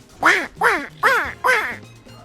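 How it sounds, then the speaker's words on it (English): Ducks on a backyard pond in Broward County, Florida give four loud, close quacks in a steady rhythm, each a harsh nasal call, with no talking. "Trying to talk to the ducks."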